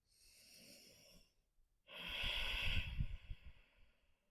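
Slow breathing while holding a yoga pose: a soft, airy inhale, a short pause, then a longer and louder rough exhale, heard close up with no talking.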